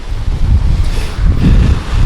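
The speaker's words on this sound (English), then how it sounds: "Well, that's a good gust right there." A severe gust front wind roars hard and continuously against the microphone, a dense low rumble with pulsing surges, loud and close, with nobody talking.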